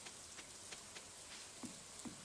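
Rain falling in Stardew Valley, a soft, steady hiss of drops with a few faint taps scattered through it and no voices.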